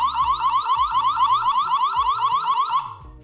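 A solar-powered pan-tilt security camera, the Wyze Solar Cam Pan, blares a loud warbling alarm siren in rapid repeating pulses for nearly three seconds, then cuts off abruptly with a short fading tail.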